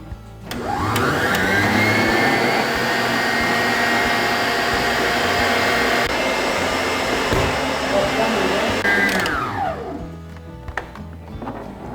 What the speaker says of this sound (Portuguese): liga a batedeira e deixa bater em ponto de pico